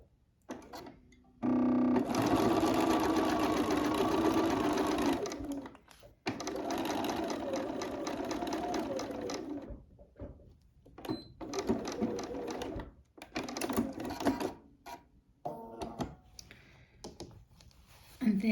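A sewing machine stitches quilt binding strips in fast, steady whirring runs, stopping and restarting several times with short pauses between bursts, close and clear.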